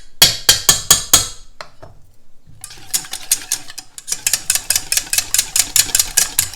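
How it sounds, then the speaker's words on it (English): A wire whisk beats mayonnaise and Dijon mustard dressing in a bowl, giving rapid rhythmic clicking strokes in quick bursts with a short pause between them, close and fairly loud. "Grab my whisk here."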